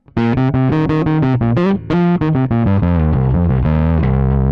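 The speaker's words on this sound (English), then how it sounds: "effectively turns it into an overdrive or distortion pedal" A bass guitar plays a quick run of notes through heavy overdrive distortion, then sustains lower notes, loud and gritty.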